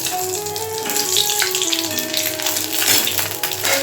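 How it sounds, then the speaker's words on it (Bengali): Nigella seeds, cumin, bay leaf and dry chilli tempered in hot oil, a brief close crackling sizzle with spattery pops over a few seconds, no speech. "একটু কালো জিরা একটু জিরা তেজপাতা কালো জিরা একটু শুকনো লঙ্কা ফোড়ন দিলাম"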